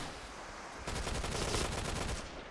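Dense automatic gunfire rattles loudly and continuously in the online shooter Point Blank, thickening into a sustained burst of rapid shots after a brief lighter stretch.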